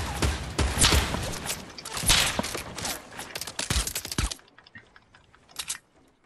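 Gunfire rattles in a Fortnite match, with dense bursts and sharp shots packed into the first four seconds, then the action drops to scattered quieter pops and faint clicks.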